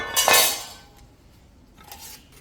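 A rivet is hammered into the strap of a dandpatta, a gauntlet sword. One loud metallic strike is followed by a fainter second tap, each leaving a brief ringing tone, with quiet between them.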